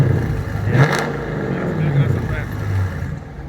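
A car with an old-school LS engine revs nearby with a rough, throaty rumble that swells and eases over a few seconds while people talk over it.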